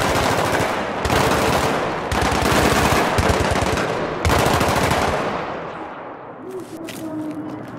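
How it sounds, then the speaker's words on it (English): Loud, close automatic gunfire from the combat video game Battlefield rattles in long sustained bursts separated by brief breaks, then thins out near the end. "We're taking fire!"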